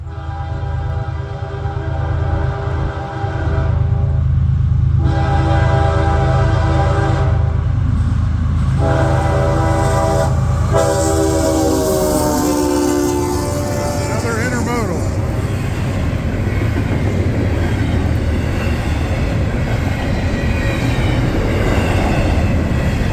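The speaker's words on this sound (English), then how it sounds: "There's 2 to 3 trains that come through each morning" A southbound CSX freight train passes in Arlington, Ohio, on a morning run, sounding its horn in several long, loud blasts before a steady roar of rolling cars and rail noise takes over close by.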